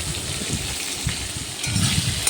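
Teasel gourd and potato with cumin fry in hot oil, giving a close, continuous sizzle with a soft spatter and occasional stirring noise.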